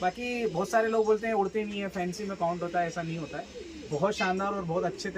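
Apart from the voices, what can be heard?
None of the usual background noises is heard.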